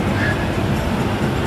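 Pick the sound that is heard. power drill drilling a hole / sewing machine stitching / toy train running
toy train running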